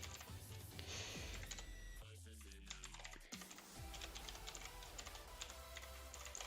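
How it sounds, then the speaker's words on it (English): A long password is typed on a computer keyboard, a steady run of quick key clicks with a brief lull midway, heard close but at low level amid some background noise. "That's kind of a long password and I don't like typing it out."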